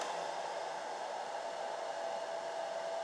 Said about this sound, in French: j'ai le sèche-cheveux qui s'est mis à ralentir